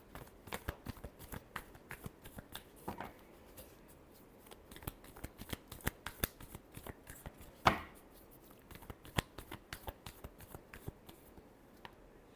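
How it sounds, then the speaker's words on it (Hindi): Tarot deck shuffled by hand, a close run of quick crisp riffling card slaps and flicks repeating throughout, with one sharper snap midway and no talk. "एरीज के लिए लास्ट शफल।"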